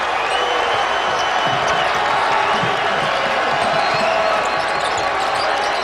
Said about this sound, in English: The swell begins from the crowd at the Yum Center